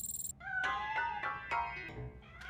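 A cat hidden inside a piano in the video game RoboCop: Rogue City lets out about five clear, close meows in quick succession, with no talking over it.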